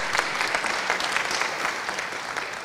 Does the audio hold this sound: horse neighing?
no